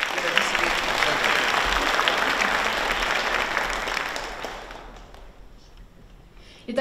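Audience applause fills a hall at a regional orchestral soloist music competition award ceremony, steady broadband clapping that holds for several seconds, then thins and fades toward the end.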